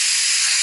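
Espresso machine steam wand venting a steady, loud hiss, continuous and close, with no talking.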